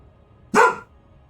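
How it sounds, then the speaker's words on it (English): A dog gives one sharp, close bark indoors, a short loud burst that stands alone against a quiet background. "my dog is barking my ear off"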